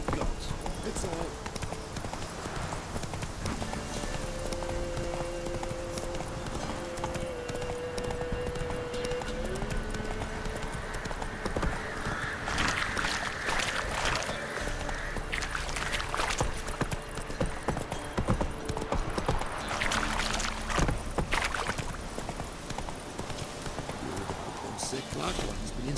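Roach, a horse in the video game Witcher 3, gallops with rapid steady hoofbeats under music and game sounds, with a voice speaking briefly.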